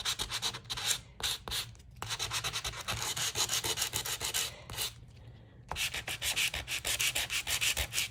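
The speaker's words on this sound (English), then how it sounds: "I am going to get my sanding block" Rhythmic back-and-forth strokes of a hand sanding block, close and fairly loud, rasping in quick bursts with short pauses between runs.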